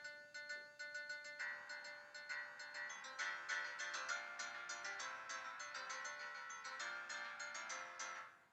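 Bright, plucked melodic instrumental music composed by AI plays steadily with no voices, its repeating notes forming a lively tune resembling the Pirates of the Caribbean theme, at a moderate, even level.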